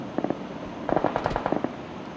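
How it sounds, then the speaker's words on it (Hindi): A machine gun fires in PUBG Battlegrounds Mobile India, with two or three short clusters of sharp cracking shots, the longest burst in the middle, all fairly close and loud. "मशीन गन तो खतरनाक चलती है"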